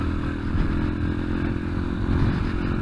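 Yamaha TTR125 motorcycle engine idling and pulling off idle with a weak, sputtery note, a steady close low rumble with faint clattering over the whole stretch.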